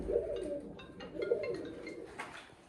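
Lahori pigeons in a breeder's lofts coo in two clear, throaty rounds, each a low rolling phrase, with light rustles and faint chirps between them and nobody speaking.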